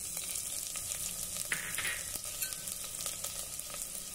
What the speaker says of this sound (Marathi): हिरवी मिरची जरा परतून घेऊ